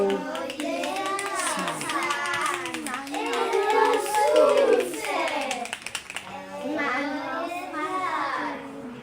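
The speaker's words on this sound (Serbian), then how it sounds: "Bravo! Aplauz!" Scattered hand clapping amid lively children's voices, with talk running over much of the applause.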